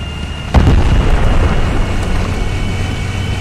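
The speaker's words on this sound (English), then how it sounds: "Sounds like that tank just got hit." An explosion strikes a tank in the game Post Scriptum, a sudden heavy boom over a constant engine-like rumble that lingers under steady background noise.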